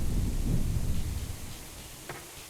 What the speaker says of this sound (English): Luckily, it's raining, so I don't have to worry about that.